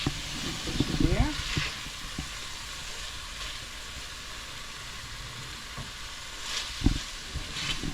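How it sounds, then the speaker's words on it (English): Onion sautéing in a pan for pepper steak, a soft steady sizzle running throughout, with a few brief clinks and scrapes of stirring near the start and again toward the end. "So I'm gonna saute the onion for a little bit"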